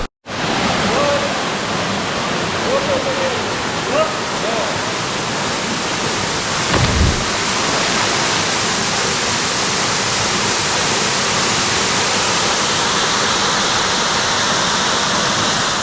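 Blue Basin Waterfall in Diego Martin, Trinidad, pours with a steady, dense roar of falling water that stays loud and unbroken throughout.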